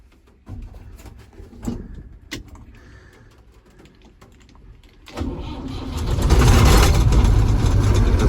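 A Volvo 1130 combine harvester's engine starts from cold: a few clicks and knocks, then a swelling diesel roar that settles into a loud, steady idle close by.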